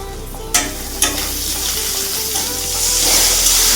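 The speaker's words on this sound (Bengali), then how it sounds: "এবার এটা কড়াইতে দিয়ে দেবো।" A spice paste mixed with water hits a hot wok and fries with a loud, continuous sizzle that swells toward the end. A couple of sharp utensil knocks come near the start.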